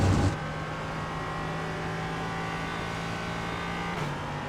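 Race car engine in the iRacing sim at Laguna Seca, a steady sustained drone with constant pitch and a brief louder burst at the start, running alone without talk while closing on a slower car.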